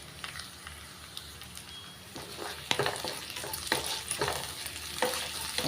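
Crushed garlic cloves with their skins on sauté with onion in a pan, a low continuous sizzle with intermittent stirring scrapes that grow a little louder and busier toward the end.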